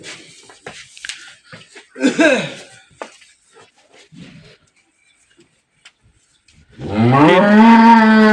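A dairy cow of an improved breed, being checked by a veterinarian on a farm, lets out a loud, close, drawn-out moo at the end, after scattered handling noises and brief talk.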